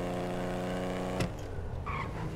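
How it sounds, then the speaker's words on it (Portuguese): Car engine in the video game GTA 5, driven past a city: a droning engine hum that drops away midway, followed by tire and road noise with a faint higher squeal. "eu tô gostando do barulho do motor desse carro"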